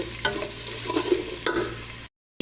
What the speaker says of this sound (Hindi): अभी हम आंच को थोड़ा सा खोलेंगे ताकि प्याज हमारा फ्राई हो जाए।